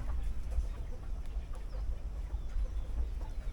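Chickens cluck softly at a backyard coop shared with cats, faint scattered clucks under a steady low rumble of background noise.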